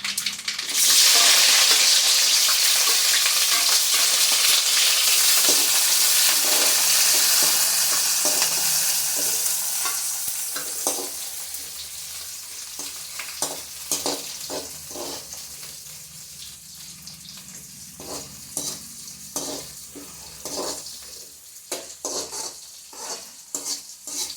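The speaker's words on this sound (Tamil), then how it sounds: "வெங்காயம் பச்சை மிளகாய் கருவேப்பிலையெல்லாம் போட்டு தாளிச்சுடுவோம்" Onion, green chili and curry leaves crackle and sizzle in hot oil, loud and bright at first and easing off, with repeated clinks and scrapes of a spoon stirring against the pan throughout.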